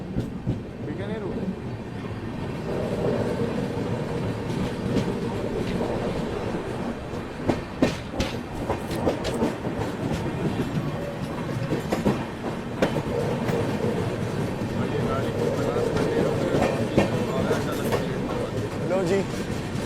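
Northeast Express passenger train running on tracks between Delhi and Guwahati, heard from on board as a steady low rumble with rhythmic clacking of wheels over rail joints, people talking over it.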